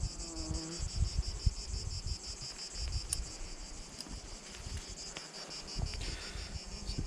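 A honeybee colony buzzes in a dense, continuous drone from many bees close to the hive, with brief louder passes of individual bees and some outdoor wind noise, no speech.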